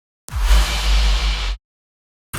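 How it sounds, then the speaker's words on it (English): A single heavy impact sound effect in a tearout dubstep track, with a deep, booming low end and bright noisy wash, sustaining about a second before cutting off abruptly. "these fill elements sound like this. So an impact."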